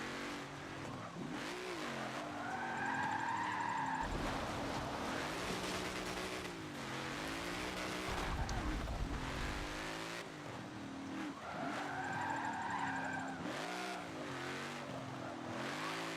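Tires squeal and skid as a car drifts in Forza Motorsport 7, with the engine revving and dropping in repeated surges over a steady, loud racing roar and no talking.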